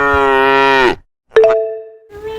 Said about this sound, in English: This is cow.